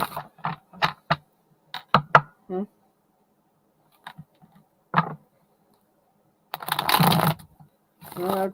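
Tarot cards being shuffled, with quick crisp riffles and soft slaps scattered between pauses and a denser burst of card noise near the end.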